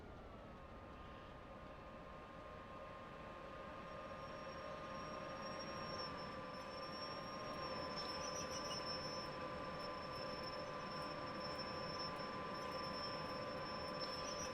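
An electric train runs on the West Coast Main Line between Crewe and Preston in the Just Trains simulator, giving a faint, steady rumble with sustained motor whine and a high tone, gradually swelling slightly.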